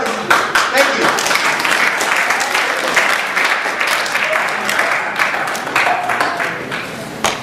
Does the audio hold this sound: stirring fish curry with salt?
no